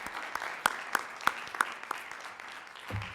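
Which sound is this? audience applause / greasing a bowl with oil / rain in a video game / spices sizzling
audience applause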